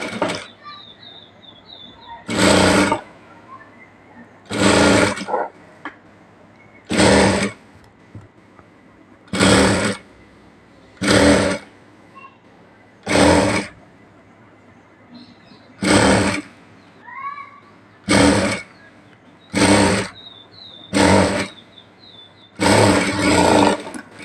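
A sewing machine stitches fabric for puffy sleeves in bursts of loud, steady whirring, about a dozen runs of one to two seconds each separated by short quiet pauses, with faint chirps in the gaps.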